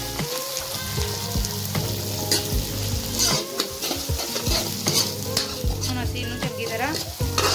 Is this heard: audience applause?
no